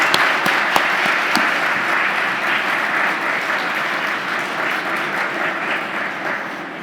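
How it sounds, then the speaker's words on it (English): An audience at a civic discourse conference gives a panel a round of applause, sustained dense clapping with a few sharp nearby claps early on, steady and fairly loud throughout. "Perhaps one more round of applause both for this panel"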